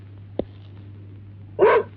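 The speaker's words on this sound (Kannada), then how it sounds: "ಬಹಳ ದಿನ ಆಯ್ತಲ್ಲ, ಅದಕ್ಕೆ ಬೊಗಳ್ತಾ ಇದೆ" A dog barks in a Kannada movie scene: first one short, sharp yap, then a louder, fuller bark after a quiet gap, both close and clear over a low steady hum.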